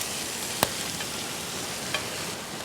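Ingredients for mutton bone marrow rice sizzle steadily in a hot pan during village-style cooking, with a couple of sharp utensil clicks against the pan.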